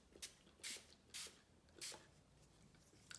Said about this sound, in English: Now I have a little spray bottle of just water.